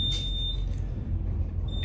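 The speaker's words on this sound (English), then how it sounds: "I'm in the elevator, that's why it's fucking beeping" A thin, high electronic elevator beep sounds briefly, stops, then returns near the end over a low rumbling hum of machinery.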